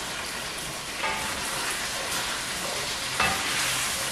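Hot spicy sauce stir-frying in a pan with green onion, garlic and ginger, giving a steady, loud, dense sizzle throughout with a few brief scraping bumps of stirring and no talking.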